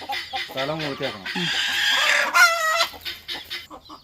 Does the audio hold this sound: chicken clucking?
yes